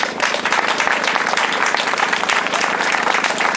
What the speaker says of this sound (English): I'd like you to all to give her a big round of applause